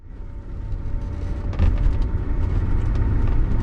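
A 1979 Mercedes-Benz 450SEL 6.9 rolls along with a steady low engine and road rumble that swells slightly partway through, continuous and fairly close, with no talking.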